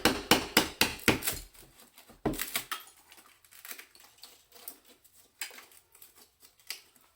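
A hammer smashes out a fire surround in a burst of sharp, loud impacts, several quick strikes, a pause, then scattered lighter knocks and falling debris, close and with no talking.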